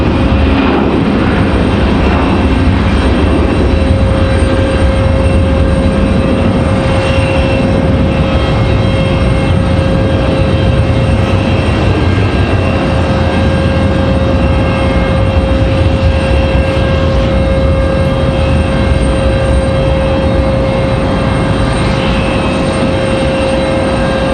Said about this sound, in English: Sounds like we got a departure. Pick that up here on the backside. It's like a Delta A319.